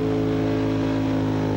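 A car engine holds a steady, loud, droning rev during a women's burnout competition at Summernats, the tone sustained and unbroken with no talk over it.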